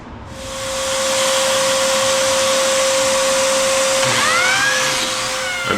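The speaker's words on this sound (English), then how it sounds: "Prior to glue up, I mark and cut slots for biscuits." A biscuit joiner cuts slots in quarter-sawn white oak planks before glue-up, a loud steady motor whine and rushing cut that builds up and holds for several seconds, with scraping squeals near the end.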